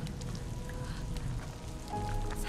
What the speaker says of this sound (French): Mais là, du coup, c'est la pluie.